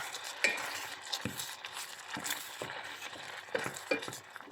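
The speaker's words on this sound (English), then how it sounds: "Then I mix everything." A spoon stirs a keto no-bake dessert mixture with vanilla and berries in a bowl, giving soft, irregular scraping and clicking strokes, close and fairly quiet.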